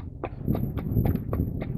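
A horse walking at an easy pace, hooves clip-clopping in a steady, evenly spaced rhythm of about seven close, moderately loud footfalls with no talk.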